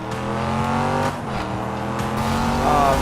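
An American car engine from the Need for Speed Rivals video game hums and revs steadily up close, its pitch shifting and climbing slightly, with a short tire squeal near the end.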